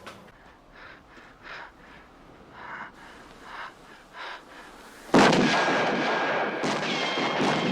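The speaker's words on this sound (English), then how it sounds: "he fires at Peter, causing Peter to drop his gun" Gunfire from a killer robot in a Westworld film scene, a loud sudden burst of shots that breaks in after several seconds of quiet breathing-like sounds and stays heavy to the end.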